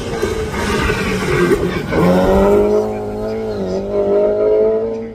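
A blue Ford Escort race car with a 2.5-litre engine runs at a hillclimb, loud and close, its engine revving hard and climbing in pitch through the gears over a brief squeal from the tyres.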